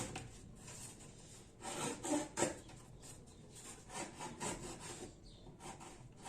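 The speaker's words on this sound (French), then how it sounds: "le cutter, il sert à faire des raccords. Comme là, je vois que c'est pas forcément bien rectiligne, donc je rectifie." A cutter knife trims the edge of a cardboard shoebox being made into a drawer unit, giving repeated scratchy scraping strokes in uneven bursts, close and fairly quiet, with no talking.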